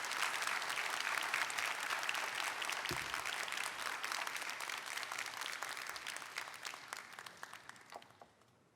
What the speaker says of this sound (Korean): 우리 뜨겁게 박수로 환영하시겠습니다.